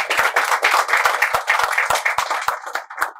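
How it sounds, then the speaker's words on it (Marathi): A small audience at a Ganpati decoration contest prize ceremony claps close by, a brief burst of fairly loud, uneven individual claps with a few sharp hand strikes standing out. "डेप्युटी मॅनेजर मार्केटिंग कौशल श्रीवास्तव सर यांच्यासाठी सुद्धा टाळ्या."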